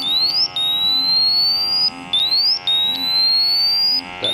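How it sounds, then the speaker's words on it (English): A four-gas meter alarms during a bump test with calibration gas, giving loud, repeated electronic beeping with rising chirp sweeps that cycle about every second and a half, with no other sound. "and it should start alarming"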